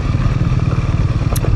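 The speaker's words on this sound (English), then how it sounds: "we'll just engine brake down it in second gear, unless I need to engine brake down it in first gear" A motorcycle engine-brakes in low gear down a steep switchback shelf road in a Utah canyon, its engine putting out a loud, close, steady pulsing rumble with faint clatter and no talking.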